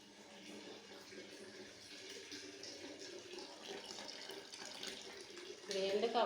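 Hot water runs from a home tap in a faint, steady stream that swells louder near the end, with someone talking over it.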